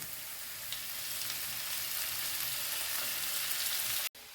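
Tomato pieces hitting a pan already frying onion and carrot, giving a steady close sizzle throughout that cuts off abruptly near the end.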